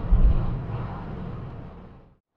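Big, lusty engine of a 1960 Austin Westminster A99 driving on the road: a steady low drone close by that eases off and fades out near the end.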